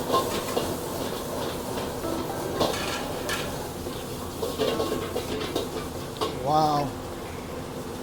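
Metal spatula clanks and scrapes against a wok as Indonesian fried rice with beef sausage is stir-fried over open fire at a street stall, with a faint sizzle and busy clatter underneath and a voice briefly exclaiming.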